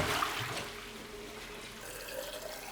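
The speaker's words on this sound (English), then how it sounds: "Now you need to bring it into the bathroom and be it down the toilet." Liquid pouring and splashing into a toilet bowl, a steady watery gush that runs continuously and moderately close, with no voices.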